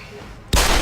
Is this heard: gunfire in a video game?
yes